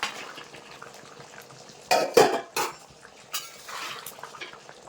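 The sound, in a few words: adding fried pangas fish pieces into boiling curry pot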